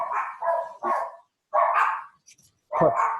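A dog barks in several short, close bursts with brief gaps between them, indoors during a meeting, clear and alone with no talking over it.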